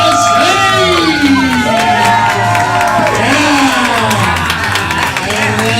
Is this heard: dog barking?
no